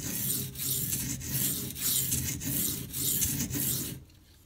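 A Spyderco Endela knife in K390 steel is stroked across a Gritomatic silicon carbide stone. The rasping strokes come in an even rhythm of about seven passes, loud and close, then stop abruptly into quiet.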